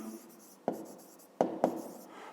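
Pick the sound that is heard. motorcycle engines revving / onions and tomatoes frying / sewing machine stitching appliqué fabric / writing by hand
writing by hand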